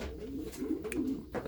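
Racing pigeons softly cooing in a breeding loft, a low, rolling murmur close by with a faint rustle near the end.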